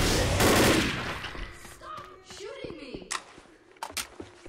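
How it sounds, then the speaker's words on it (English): Dense burst of Left 4 Dead video game gunfire opens the moment, then fades into scattered shots and game effects while excited voices talk over it. "Stop shooting me!"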